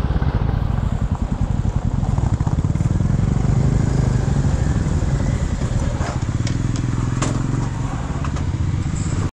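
A vintage motorcycle engine runs steadily and loudly up close at a biking stop in Mahabaleshwar, its rapid, even exhaust pulses continuing throughout with some light clatter near the end.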